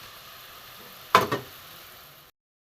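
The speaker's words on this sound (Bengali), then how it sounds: "মশলা গ্রেভিটা ফুটে উঠেছে, এখানে আমার ভাজা ঢ্যাঁড়সগুলো আমি দিয়ে দেবো।" Fried okra dropped into a boiling spice gravy for a vegetarian okra poppy-seed and mustard dish gives one brief, close hissing sizzle burst that fades quickly over a faint background hiss, with no talking.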